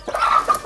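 A brooding hen sitting on her eggs gives a short, agitated clucking burst as she is put back onto the nest. The sound is close and loud, and no one speaks.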